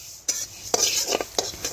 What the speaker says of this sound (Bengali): দেখুন নাড়াচাড়া করে একটু আমি হালকা গরম করে নিচ্ছি